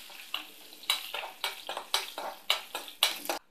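Mustard seeds and curry leaves, joined by dried red chillies, being stirred in a pan of hot oil as a tempering for pineapple pulissery: repeated scraping strokes about every half second over a steady sizzle, close and clear.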